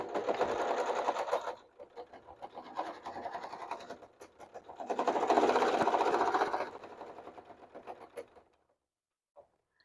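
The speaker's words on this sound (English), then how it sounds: "I'm going to sew right up to my stitch edge." A sewing machine runs in two long bursts while stitching a seam on a bag, humming steadily with a brief pause between runs before stopping into near silence.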